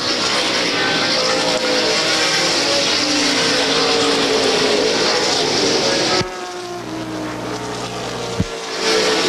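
Stock race cars lapping the Beech Ridge Motor Speedway oval at a 1988 ACT New England 300 weekend, a continuous loud engine roar with a sudden drop as the pack passes, no voices heard.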